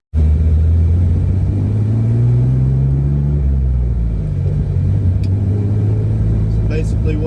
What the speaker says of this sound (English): It's basically what it sounds like on the inside with the heater running full blast.